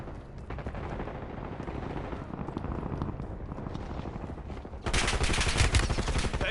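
Sustained automatic gunfire crackles in a Black Ops 6 Battle Royale match, loud and continuous. It gets denser and harsher in the final seconds as the shots grow closer.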